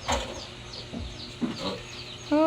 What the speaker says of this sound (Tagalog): Titingnan ko din po itong mga biik ni mama.